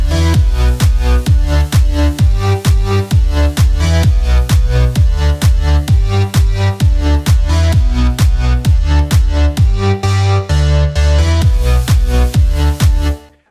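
A bright synth lead built in FL Studio, modeled on the leads in a song, plays a fast repeating staccato melody over a punchy steady beat, loud and continuous before stopping abruptly.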